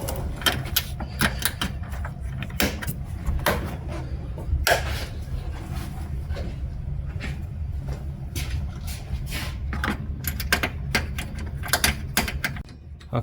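Plastic trim clips and a trim cover are pressed back into place on a Mazda CX5, a string of sharp, irregular snaps and clicks over low background rumble, close by.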